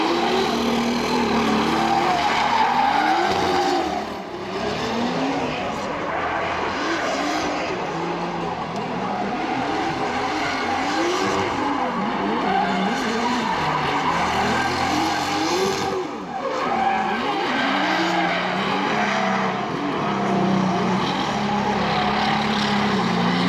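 Drift cars at a Bulgarian drift championship round scream past with revving engines and long, wavering tire squeals, loud and continuous as they chase through the course.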